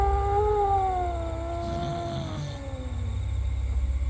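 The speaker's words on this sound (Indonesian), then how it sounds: "suara lolongan anjing sekarang sudah hilir mudik di halaman" Dogs howl in a yard at night, a long, wavering, falling howl drawn out over a low background hum, moderately distant and alone with no talk.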